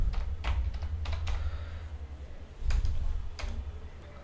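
Keys clatter on a computer keyboard as someone types. Short bursts of clicks arrive in uneven clusters over a steady low hum, close and clear.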